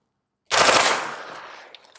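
A rapid string of gunshots is fired at Level IIIA body armor during a test, a sharp loud burst of several close-spaced shots followed by a decaying echo and a couple of faint trailing pops.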